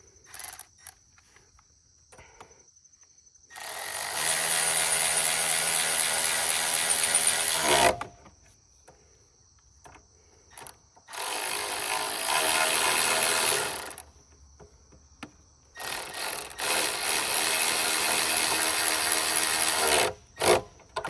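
A ratchet tightens the bolts on a torque converter being installed on a Coleman B200R mini bike, making three long, loud bursts of fast clicking with quiet pauses between them, close up and with no talking.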